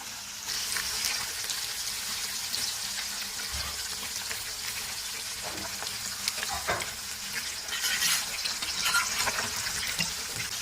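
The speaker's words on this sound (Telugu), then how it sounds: "ఇప్పుడు మళ్ళీ పెద్దగా వేసుకొని చేపలు గోల్డ్ కలర్ వచ్చేంత వరకు మంచిగా వేపుకోవాలి ఆయిల్లో" Pieces of fish frying in hot oil until golden, a steady loud sizzle and crackle with occasional sharper spatters, continuous and close with no talking.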